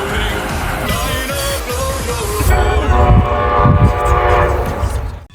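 A loud steam train on the Strasburg Railroad rumbles and clanks nearby with a sustained whistle tone, the rolling noise building toward the end.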